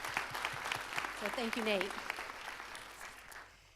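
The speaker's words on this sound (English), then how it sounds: "we really should give him an applause" Applause from an audience at a community information session in a church facility, a broad patter of clapping that swells and then slowly fades beneath a voice speaking over it.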